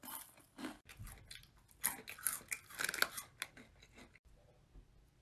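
Loud, close chewing with wet crunches and clicking bites in an irregular rhythm, fading near the end.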